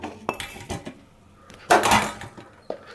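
Food tipped into a steel vessel while making homemade French fries, giving a few close metallic clinks and clatters, with one louder rattling burst near the middle and a last light knock at the end.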